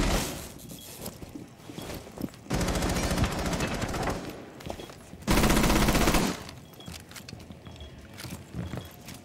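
Automatic gunfire in a shooter video game comes in two loud sustained bursts, each a couple of seconds long, with quieter single shots and movement sounds in between.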